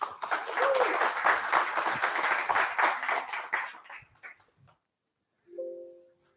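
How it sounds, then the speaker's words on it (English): Audience applause for a speaker being welcomed at an AR technology symposium, a dense burst of clapping for about four seconds that fades out, followed by a brief tonal sound near the end. "give a big round of applause for my dear friend Christine Perey"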